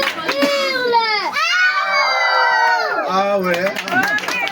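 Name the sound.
children imitating a wolf howling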